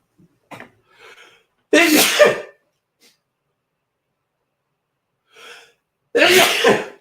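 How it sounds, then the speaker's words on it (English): A person lets out two loud sneezes about four seconds apart, each with a sharp burst, with softer breathy sniffs and small sounds leading up to the first. "now I'm going to sneeze, I think"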